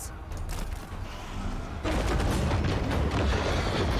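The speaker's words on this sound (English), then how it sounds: "Looks like his cannons are basically out here anyway." Cannons and gunfire boom in a fantasy strategy video game battle, a dense, continuous rumble of overlapping blasts and mechanical clatter that grows louder partway through.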